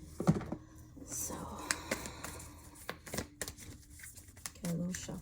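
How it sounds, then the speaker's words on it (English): Sacred Destiny oracle cards being shuffled by hand in a tarot reading, soft close riffling and tapping in brief bursts under quiet whispering. "get a little shuffle in"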